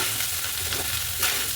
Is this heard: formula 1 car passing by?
no